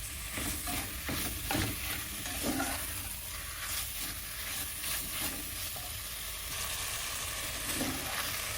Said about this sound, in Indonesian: Tumis sampai dagingnya berubah warna.